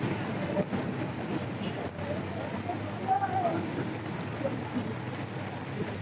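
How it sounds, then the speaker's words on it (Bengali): Rain falling outside in Rajbari, a steady low wash of patter and rumble heard from indoors, fairly faint, with a faint voice mixed in. "বাইরের বৃষ্টিটা কমুক"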